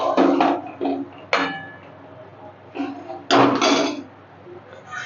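Mushrooms go into a cooking pan with loud metallic clangs and scraping knocks of a utensil against the pan, several bursts separated by short pauses, with a voice talking nearby.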